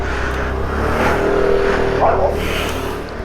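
Royal Enfield Himalayan BS6 motorcycle engine on a short ride, a loud steady rumbling drone with wind rush and a slight rise in pitch, no speech over it.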